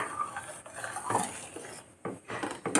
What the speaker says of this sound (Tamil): கீழே நம்ம கைவிடாமல் அப்படி கிண்டிக்கிட்டே இருக்கணும்.